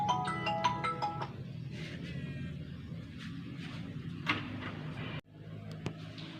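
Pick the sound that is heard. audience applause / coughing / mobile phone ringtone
mobile phone ringtone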